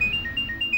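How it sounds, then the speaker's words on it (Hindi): A mobile phone rings in a domestic scene from a Hindi television drama, its electronic ringtone pulsing in short repeated tones, loud and close with no talking. "फोन बज रहा है, उठाइए ना, किसका कॉल है ये?"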